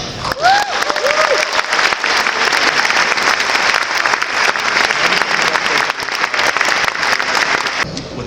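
A banquet audience at an annual bar association dinner claps steadily to welcome an honoree to the stage. The sustained applause is loud and close, with a few whoops at the start before it tapers near the end.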